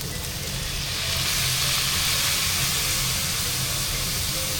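Food skin pan-frying in peanut oil in a home kitchen gives a close, steady sizzle with broad hissing that swells after the first second and holds loud and even throughout.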